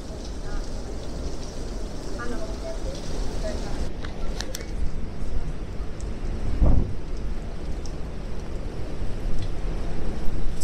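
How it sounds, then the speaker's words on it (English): Strong wind from Storm Barra on the Blackpool seafront roars and buffets close to the microphone in a constant rushing rumble, with one heavy gust thumping through midway. "You can hear that wind."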